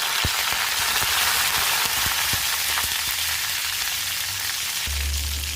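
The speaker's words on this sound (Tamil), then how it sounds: "வெங்காயம் இந்த அளவுக்கு வதங்கினது போதுங்க" Small onions sautéing in oil with dried chilli and curry leaves for sambar, a dense continuous crackling sizzle with scattered sharp pops, loud and close, no voices.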